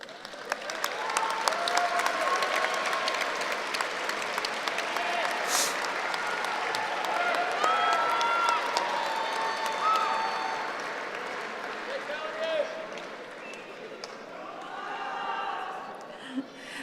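Graduates at a University of Iowa business school commencement clap for their supporters, a long, sustained wave of applause in a large hall, with scattered chuckles, cheers and voices mixed in before it gradually fades.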